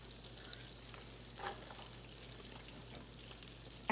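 Onions added to a hot pan for butter chicken fry with a soft, steady sizzle and a few faint crackles, quiet and close with no talking.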